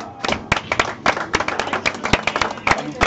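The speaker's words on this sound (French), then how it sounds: "On peut l'applaudir, Touaka 3ème aujourd'hui sur un très beau tournoi" An audience at a fighting-game tournament, the Breizh Arcade Summer Fest 2021, applauds the third-place player with a scattered, uneven patter of nearby hand claps, while a commentator talks over it.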